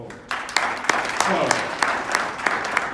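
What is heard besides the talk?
audience applause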